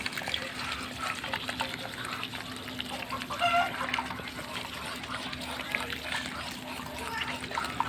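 Laying Chinese ducks gather at feed, calling and clucking with splashing water around them, while a person talks over the scene.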